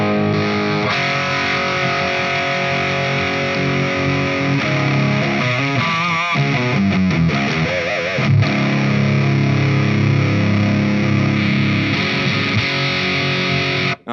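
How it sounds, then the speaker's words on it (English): An electric guitar plays through a SMIRMOOR SAULE distortion pedal: thick, fuzzy sustained chords and a few bent notes ringing out loudly. No one speaks. "So you can make a clean amp really distorted. This is like an overdrive or distortion,"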